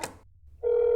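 A telephone in a video game sounds a short keypad tone, then after a brief gap a steady, loud dial or ringing tone sets in and holds to the end.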